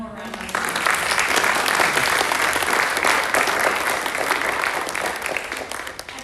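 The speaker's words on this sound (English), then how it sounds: "let's give them one more round of applause." A school speech and debate showcase audience claps steadily and loudly for about six seconds, a dense sustained applause that fades slightly toward the end, with a voice briefly audible at the start.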